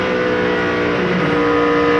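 A 2002 NASCAR race car engine at Pennsylvania's 500 revs hard and steady at about 9,200 rpm through a turn without shifting, a loud, close, continuous droning roar with strong harmonic whine.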